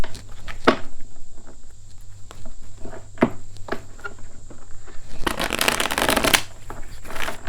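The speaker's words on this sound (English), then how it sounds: "One more shuffle, please." Cards being shuffled nearby, quick riffling taps and flicks, ending in a dense burst of rapid shuffling.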